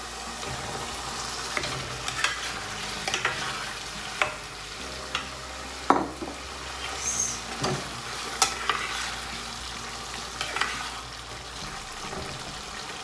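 Fried eggs simmering in a thinned curry masala gravy, with a continuous soft sizzle and bubbling broken by repeated scraping stirs of a spoon against the pan, no one talking.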